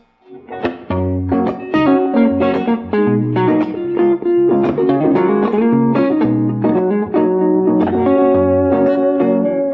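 A repeating guitar phrase plays back from a Headrush Core looper with effects and a touch of reverb, a continuous, full-sounding layered riff with no talking.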